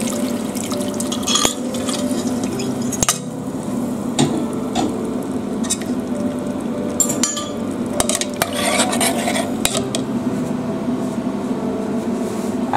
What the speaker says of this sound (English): Just going to add the fish stock.